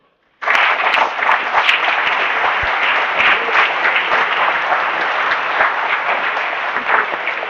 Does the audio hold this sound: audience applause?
yes